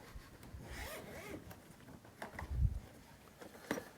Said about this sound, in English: I just managed to zip that case closed.